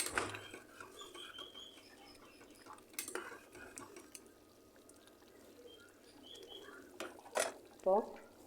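Vegetable biryani with mint and ghee is stirred in a pressure cooker. A spoon makes faint, sparse scrapes and light metallic clinks, quiet and close, with a couple of sharper knocks near the end.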